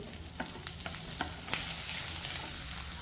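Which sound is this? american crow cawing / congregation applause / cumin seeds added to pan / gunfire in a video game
cumin seeds added to pan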